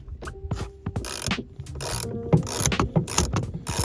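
A ratchet clicks in quick bursts at close range while loosening the negative battery terminal on a BMW E9X, with scattered metallic taps between the strokes.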